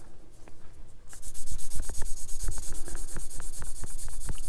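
Plastic parts from a Tamiya LaFerrari model kit being sanded by hand, a run of short scratchy rubbing strokes at close range that turn steadier and brighter partway through, with no talking.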